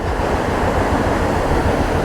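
The Marsyangdi river, heard close up, rushes and roars loudly in a dense, unbroken wash of flowing water.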